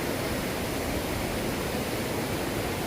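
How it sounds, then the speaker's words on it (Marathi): Small stream flowing beside Shri Loteshwar temple in the green Konkan countryside, a dense, even rush of water that fills the whole stretch at steady loudness, with no voices. "मंदिराला लागूनच छोटासा ओढा आहे"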